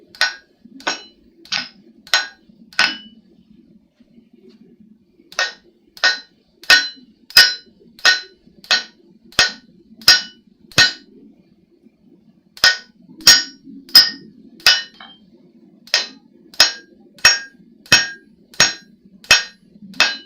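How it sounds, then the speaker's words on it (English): Dog's head hammer forging a san mai deba knife, sharp ringing hammer blows on hot steel in rapid rhythmic bursts, a pause, then more runs of evenly spaced strikes, loud and close with no talk. "I must have forged an entire knife with this dog's head hammer."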